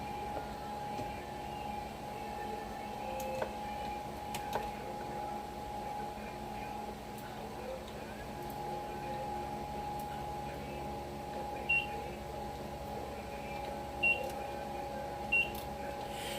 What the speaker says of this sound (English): Now the beeping you're hearing is the actual beeping coming from my Minn Kota talons.